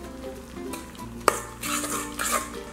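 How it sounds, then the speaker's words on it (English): Wet, squelchy stirring of egg into a thick batter, with a sharp clink of a utensil partway through and bursts of sloshing scraping louder toward the end. "And stir in egg. That is like the grossest sound ever"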